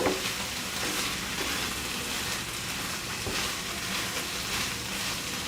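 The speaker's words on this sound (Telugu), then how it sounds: "ఇప్పుడు మనము సిమ్లో ఉంచుకుని మూత దీన్ని కవర్ చేసి మధ్య మధ్యలో తిప్పుకుంటూ వేయించుకోవచ్చు అన్నమాట" Prawns with onions and garam masala frying on low heat in a covered pan, a dense, steady sizzle that continues without pause throughout.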